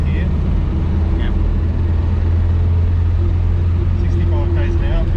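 A Morris Oxford car cruising on an open road in fourth gear gives a steady low engine drone and road rumble throughout, with a few faint higher tones drifting over it.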